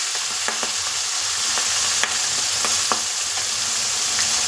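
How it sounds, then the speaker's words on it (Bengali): Onion, green chili, potato and greens stems frying together in catla fish oil, a strong continuous sizzle broken by a few light spatula scrapes and taps, with no talking. "কাঁচা লঙ্কা, আলু আর ডাঁটা সব একসাথে ভাজি"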